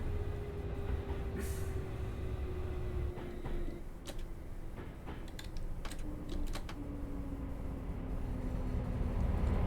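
Class 350 electric multiple unit running in Train Simulator Classic on the Stafford to Rugby route after developing a fault: a steady, loud rumble of train running noise with a sustained motor whine, interspersed with sharp clicks and rattles, no talking.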